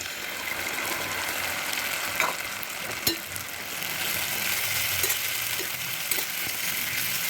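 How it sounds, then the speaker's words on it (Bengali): Ground masala paste frying with onions in a pan for mutton kosha gives a steady, moderate sizzle throughout, with a few faint scraping clicks from a utensil. "মশলাটা আমি আবার ফ্রাই করে নেব।"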